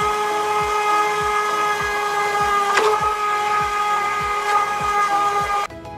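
An electric blender whirs steadily while blending garlic sauce as oil is added, a loud continuous motor whine with a rhythmic pulsing churn throughout, cutting off abruptly near the end.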